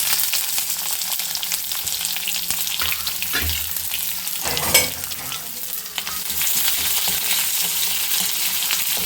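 Tomato, curry leaves and onion frying in a pan, a loud, steady crackling sizzle with a few stirring knocks in the middle, close up and without speech.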